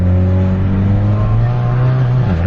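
A Volkswagen MK6 GLI fitted with a cold air intake accelerating hard, heard from inside the car as a loud, steady engine drone rising in pitch before easing off near the end.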